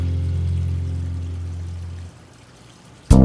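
Water is poured for a guest in a steady, close stream for about two seconds before stopping, followed by a short, sharp knock, as of a glass or jug being set down; no talking.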